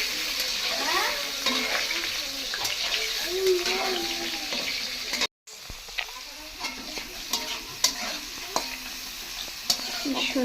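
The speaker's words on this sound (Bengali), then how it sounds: "এখানে আলু ও মাছ, এটা ভাজবো" Potatoes and fish fry in a pan with a steady, close sizzle and scattered stirring scrapes and taps, cut by a brief moment of silence; someone talks over the cooking.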